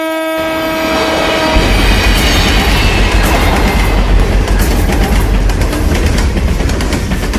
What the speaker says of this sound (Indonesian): Ternyata itu hanya suara klakson kereta api yang barusan lewat di stasiun ini.